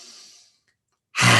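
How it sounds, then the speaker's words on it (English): During a yoga class, a person breathes in deeply through the nostrils: a soft airy hiss fades into silence, then a loud, close rush of breath bursts in at the end. "Breathing in through the nostrils."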